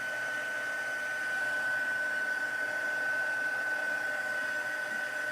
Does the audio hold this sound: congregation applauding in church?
no